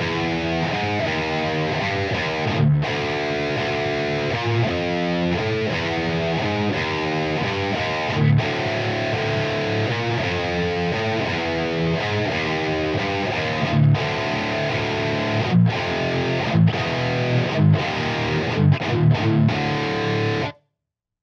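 Heavily distorted electric guitar grinding slowly through a metal riff, thick chugging notes with chromatic movement and brief muted stops, loud and dense throughout before cutting off abruptly at the end.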